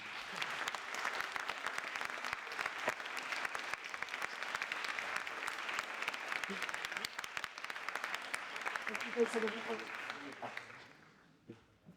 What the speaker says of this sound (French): Je crois que vous pouvez déjà l'applaudir.